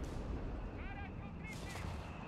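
Heavy Obice da 210/22 artillery shelling in Company of Heroes 3 sounds as deep, rumbling booms and crackling impacts under a continuous bed of battle noise, with a person talking over it.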